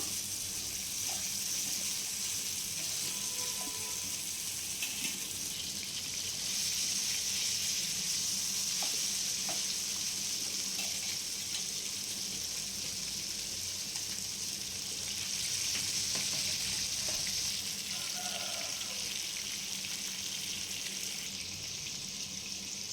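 Steady sizzling of prawns frying in hot oil, a constant crackling hiss throughout with faint clinks and splashes now and then.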